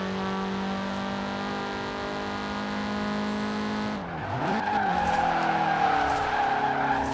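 A car in the racing game Forza Horizon 4 holds a steady engine note, then slides sideways through a turn, its tires skidding and squealing loudly as the engine revs.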